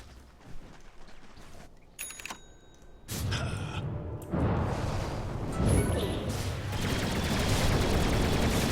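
Rocket Barrage from a Dota 2 match bursts out as a dense fusillade of rapid game explosions and gunfire-like hits, building loud and sustained from about three seconds on amid busy battle effects.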